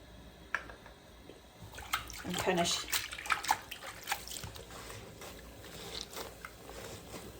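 Fabric is hand washed by squeezing it in water mixed with laundry detergent, giving wet squelches, sloshes and drips close by, while a person talks softly over the washing.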